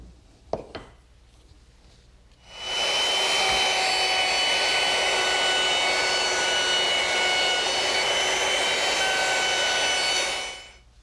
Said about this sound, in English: Now I'm going to round over the edges using my router, which is equipped with a 1/4-inch round over bit and a guide bearing